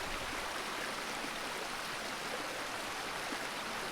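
Denny Creek flowing under a bridge in a forest, a steady, even rush of water, soft and constant.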